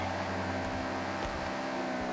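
Steady car engine of the Horizon Opus in the video game Forza Horizon 6, a low continuous drone with a faint swell near the middle, heard alone.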